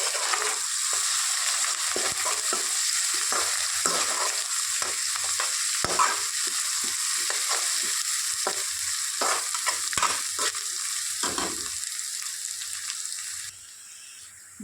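Ginger stirred into a frying capsicum curry, a continuous sizzle broken by many quick utensil scrapes and taps against the pan, close and steady, no voices.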